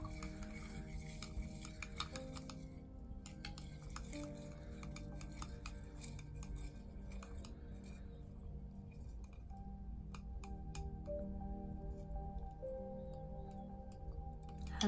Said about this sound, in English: now that we have all of this in here, let's give it a mix